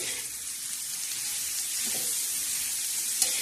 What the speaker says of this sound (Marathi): आता हा कांदा चांगला फ्राय होऊन द्यायचा आणि चांगला परतून घ्यायचा हे बघा असा हलवत राहायचा